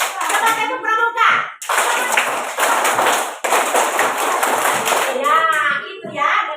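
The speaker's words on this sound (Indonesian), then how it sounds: "Ya, gerakan keenam dengan bertepuk tangan." Children in a classroom clap hands together in a scout-style clapping pattern, loud and close, in bursts of sharp rhythmic claps with a teacher's voice speaking between them.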